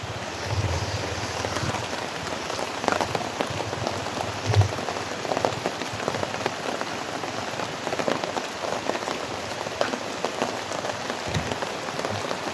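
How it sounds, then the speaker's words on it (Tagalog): Heavy rain falls outdoors under banana trees, a dense continuous hiss and patter of drops with occasional louder splashes, steady throughout and without voices. "Papalakas na palakas ng ulan"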